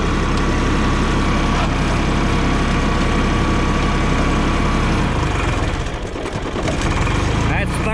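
An International 464 tractor engine pulls steadily in high second gear, a loud, close diesel drone running throughout with a brief dip in load near the end.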